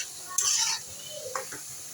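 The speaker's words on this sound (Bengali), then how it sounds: "এবার ভালোভাবে নাড়াচাড়া করে মিশিয়ে নিব।" Fried pointed gourd and potato being stirred into cooked masala in a pan: a couple of quick spoon scrapes and soft clinks over a faint, low sizzle.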